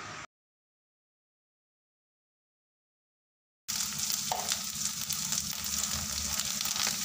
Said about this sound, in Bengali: মশলাটা ভালোভাবে ভাজা হয়ে যাওয়ার পর ধনে গুঁড়ো জিরে গুঁড়ো আর একটু লঙ্কা গুঁড়ো দিয়ে ভালো করে কষিয়ে নেব